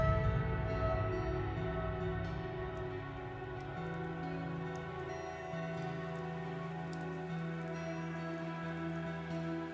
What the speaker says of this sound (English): It was overcast, rainy, definitely not a nice night for a walk.